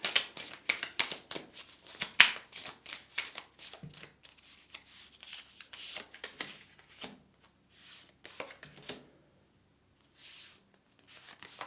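Tarot cards are shuffled by hand in quick repeated riffles and flutters close up, thinning out into sparse soft card handling toward the end.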